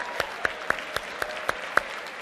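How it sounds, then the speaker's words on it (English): A group clapping together in a steady, evenly spaced beat, about eight sharp claps in just over two seconds, fairly close over a quiet room. "Big round of applause"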